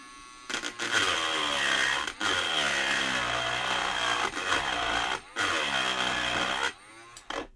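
Carbide bit cutting aluminium at slow speed on a workbench, a harsh buzzing whine in several bursts of one to two seconds, each broken by brief pauses, close and loud.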